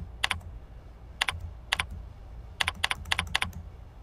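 Someone keys a telephone number into a call center web application on a computer keyboard, with short clusters of crisp key clicks separated by pauses, close and clear with nothing else heard.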